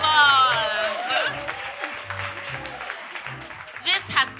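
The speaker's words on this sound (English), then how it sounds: "Let's give ourselves a round of applause." Audience at a social club gala giving a round of applause, clapping under a voice at first, then dwindling with scattered claps and a brief swell near the end.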